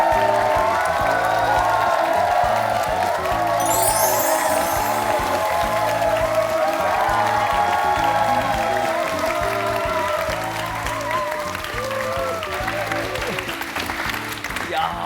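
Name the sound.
audience applause welcoming a guest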